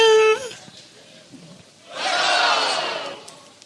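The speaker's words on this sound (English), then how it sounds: "That's the sound the crowd makes as Cyrus walks out of a tent wearing a navy" Crowd cheering swells up after a brief tonal sound and quieter moment, a loud wash of many voices shouting and roaring for over a second before fading back down.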